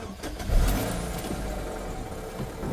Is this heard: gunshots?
no